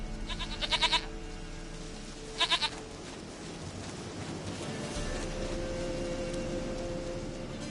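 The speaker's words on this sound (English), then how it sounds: "Goat of mine, dearest," Two short, sharp bleats from a goat in the video game Witcher 3 stand out a couple of seconds apart over a steady hiss of outdoor game ambience.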